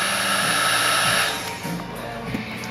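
Heat gun blowing a steady, loud rush of hot air to shrink tubing onto a cartomizer, a broad continuous whoosh that eases slightly partway through, with no voices.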